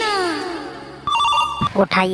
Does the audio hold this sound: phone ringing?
yes